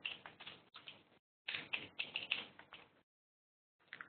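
Quick bursts of close computer keyboard typing while writing code, clicky keystrokes in short runs separated by brief pauses.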